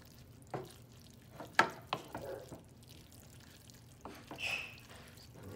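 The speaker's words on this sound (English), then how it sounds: "Just keep stirring for like about 5 minutes." American goulash is stirred in a pot on the stove, with soft, scattered scraping and clinking of a utensil over a faint, quiet background.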